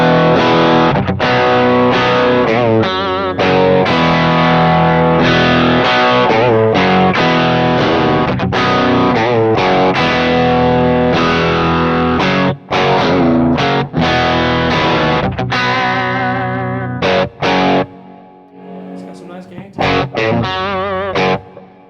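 Electric guitar through the clean channel of a MESA/Boogie JP-2C amp, with its EQ switched off and then back on, plays a loud, driven, continuous riff with brief breaks near the end.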